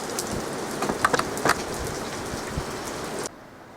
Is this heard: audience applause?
no